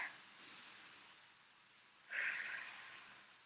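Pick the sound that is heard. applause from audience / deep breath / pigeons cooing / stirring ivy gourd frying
deep breath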